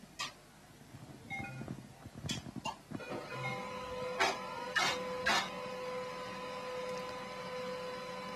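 An office printer runs a print job with mechanical whirring, sharp clicks and a few loud clacks, then settles into a steady hum as the paper feeds, heard close with no speech.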